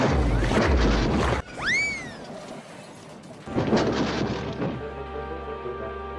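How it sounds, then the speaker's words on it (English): Cartoon crash in a Thomas and Friends episode: a loud rumbling impact, then a whistle-like sweep and a quieter gap, before a second heavy crash with a droning tonal tail. "There was a loud crash."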